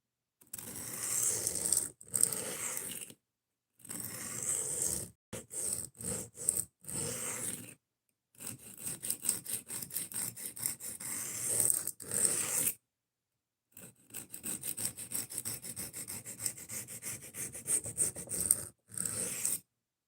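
A knife blade drawn repeatedly across a sharpening stone, with bursts of dry scraping strokes broken by short pauses, fairly close and steady in rhythm, no talking.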